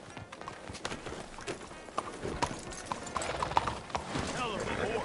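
Horse hooves clip-clop at a walking pace, fairly quiet and set back, while someone talks over them; a faint whinny may surface in the background.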